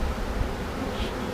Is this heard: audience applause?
no